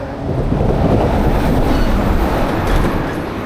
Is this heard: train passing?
yes